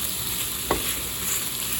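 Chicken breast cooking slowly in a pan over a very low flame, a constant gentle sizzle with a single soft tap of a utensil partway through.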